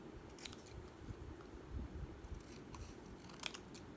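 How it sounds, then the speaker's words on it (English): Scissors snip through paper while an ice cream shape is cut out for a Halloween craft, a close run of quiet, crisp cuts with soft rustling and no talk. "Just cut out your ice cream shape"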